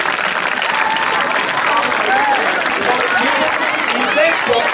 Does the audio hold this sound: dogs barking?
no